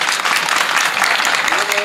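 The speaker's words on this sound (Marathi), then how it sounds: "तुम्ही बघितलं का टाळ्या कुठं वाजल्या?" A live audience at a comedic Marathi kirtan breaks into dense, sustained clapping that fills the hall evenly from start to finish.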